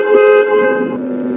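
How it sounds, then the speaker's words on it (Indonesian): The horn of an angkot minibus honks once, close and loud, in a sustained blare of under two seconds that fades slightly at the end. "Sebuah mobil angkat membunyikan klakson di depan Lupita, membuat ia terhenyak dan kaget."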